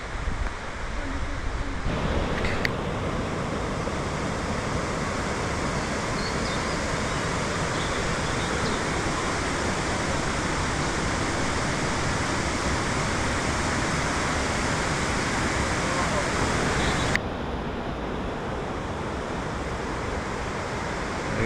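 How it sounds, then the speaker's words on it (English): Steady broadband roar of a waterfall rushing into a pool in North Wales, continuous and loud throughout, with a slight shift in tone near the end and no talk over it. "you can hear the water and you can see the pool"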